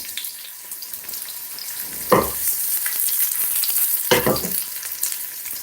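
Onion frying in olive oil in a pan, a close steady sizzle broken by two louder bursts of crackling as the pieces are stirred or moved.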